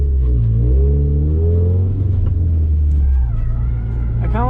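A Scion FR-S drift car revs hard during a drift run, its engine note climbing and falling in loud, close sweeps before easing off, with brief voices near the end.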